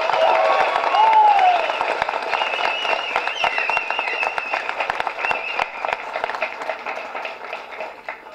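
An audience at a film audio launch claps, a dense wash of applause that starts loud and slowly thins over several seconds, with a brief voice rising over it near the start.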